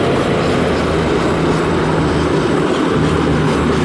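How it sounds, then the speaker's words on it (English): East Midlands Class 222 diesel unit 222.013 bound for London St Pancras roars through Sheffield station, a loud, close, continuous rumble of engine and wheels on track filling the whole stretch without any voices. "East Midlands train service to London St Pancras."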